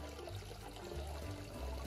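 Water pours steadily over a remote-control toy shark as if under a small waterfall, giving a faint, continuous rushing splash with no voices.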